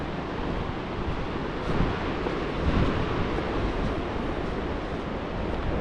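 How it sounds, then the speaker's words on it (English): Surf breaking on a wide sandy beach at Perranporth on the north Cornish coast, a steady full roar of waves with wind rumbling across the microphone, swelling slightly in the middle and continuing without pause. "And very lovely sand. And some good waves too."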